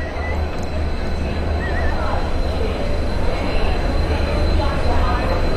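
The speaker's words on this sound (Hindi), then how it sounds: "बरेली मुरादाबाद रेलवे रूट पर ये ट्रायल रन हुआ।" A Talgo train loaded with sandbags on a trial run on the Bareilly–Moradabad rail route, rumbling past loudly and continuously with wheel squeal and rail noise throughout.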